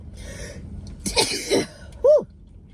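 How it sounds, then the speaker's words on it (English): A single forceful human sneeze, close and loud, preceded by breathy inhales and throat sounds and ending in a sharp voiced burst. "That was a major sneeze, y'all."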